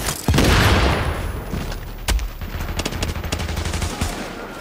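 Gunfire in the video game Tom Clancy's The Division, with a heavy opening blast followed by loud, sustained rattling automatic shots and scattered sharp cracks in a noisy combat scene.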